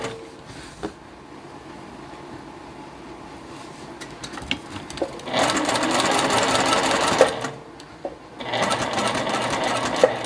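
A sewing machine stitches a beginner star puzzle quilt block, running in two sustained loud bursts of rapid needle chatter separated by a brief pause, with quieter handling clicks beforehand.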